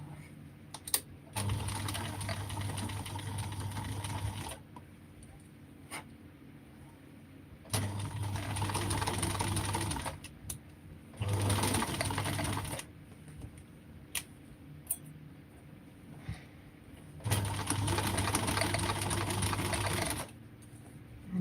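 A sewing machine stitches a fly guard in four bursts of steady whirring, each lasting a few seconds, with quiet pauses between them.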